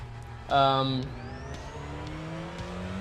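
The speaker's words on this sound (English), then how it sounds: "you pull the e-brake, get it to the rev limiter, kind of dump the clutch a little bit, and once it goes down the limiter, you just drop the e-brake" A TCR touring race car in the iRacing sim launches off the line: the engine note jumps sharply into a loud, high rev, then settles into a steady drone that climbs in pitch as it pulls away. A voice talks underneath.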